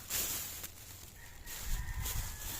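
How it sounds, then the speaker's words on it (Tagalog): A chicken clucks and crows nearby in short bursts, with rustling farmyard background noise throughout. "Uy, manok."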